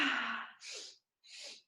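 A strong, breathy 'ha' exhale during a breathwork session is followed by two shorter, airy breaths, close and quiet with brief pauses between them.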